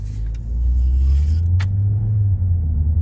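A Ford Focus or Fiesta with a DPS6 dual-clutch transmission accelerating from inside the cabin, a steady low engine drone that swells and holds, with faint road rumble and a brief click partway through.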